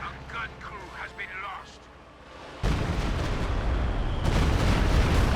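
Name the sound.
Stuka dive bomber attack in Company of Heroes 2 video game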